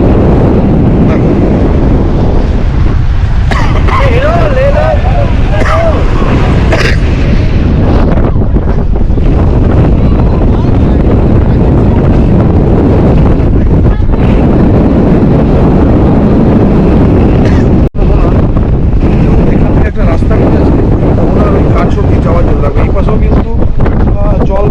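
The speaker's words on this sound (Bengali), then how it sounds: "বিভৎস ঝড়, দেখো কি হাওয়া" Strong stormy wind at Digha beach buffets the microphone in a loud, continuous roar with gusting surges, likely mixed with surf, and voices talking intermittently underneath.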